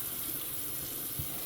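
Tap water runs steadily into a sink while makeup brushes are rinsed, a continuous broadband rush with no talk over it.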